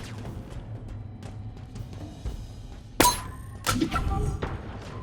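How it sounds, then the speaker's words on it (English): A grenade explodes in Halo Infinite with a sudden loud thump and crash, followed moments later by a second heavy impact amid ongoing combat noise. "I throw another nade, and once again the nade goes between the legs"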